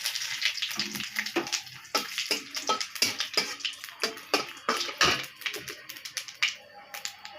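Tempering spices crackle and sizzle in hot oil for a Bengali drumstick, potato and lentil-dumpling curry, with dense, steady popping and spitting bursts close up throughout, and no talking.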